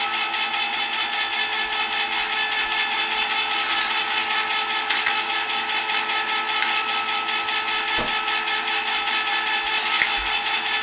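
An ice cream maker churns a batch of homemade cannabis ice cream, its motor making a steady mechanical whir with faint clicks and knocks from the paddle, loud and continuous.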